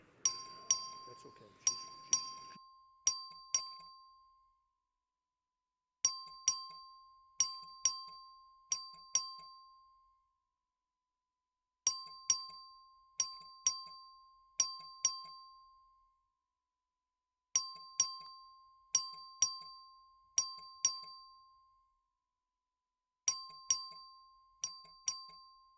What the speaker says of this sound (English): This is a record vote. The clerk will ring the bell.